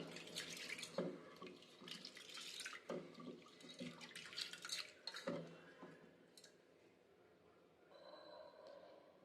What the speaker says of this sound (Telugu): ఒక గ్లాసు కందిపప్పు వేసుకొని నీళ్లు పోసుకొని బాగా శుభ్రంగా కడుక్కోవాలి